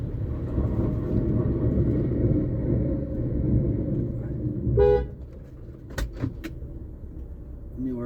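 A newer Mazda convertible rumbles steadily with a low engine drone, then a short horn-like toot sounds, followed by a quieter idle with a few sharp clicks.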